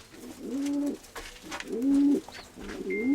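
A pigeon coos close by in three repeated low, rolling phrases, with faint rustling and bird sounds between them.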